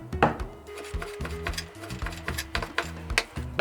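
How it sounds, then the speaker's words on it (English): A knife dices beef into small pieces for jollof, giving a run of quick, regular chopping taps on a board, close and moderately loud, over a faint tonal background. "So I'm dicing my beef to steam."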